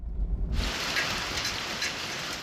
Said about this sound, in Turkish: Adana Kozan'da ise dolu yağdı.